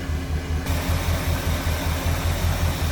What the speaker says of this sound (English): Nice little rumble out of it. Nothing crazy, but nice sounding truck.